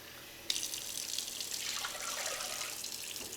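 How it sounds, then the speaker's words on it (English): Water runs steadily from a tap into a container, starting abruptly and continuing as a smooth, close splashing stream while it fills, portioned out for cooking brown rice. "I'm just gonna take 2 cups of water"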